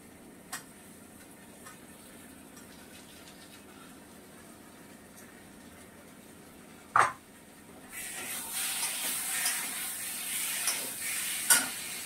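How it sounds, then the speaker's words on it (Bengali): Cauliflower and potatoes cook in spices in a pan, a soft steady sizzle with a few sharp knocks of a spoon, the frying growing louder and brighter near the end; no one speaks. "এখন রান্না করছি ফুলকপি, আলুটা দিয়েছি মশলার মধ্যে"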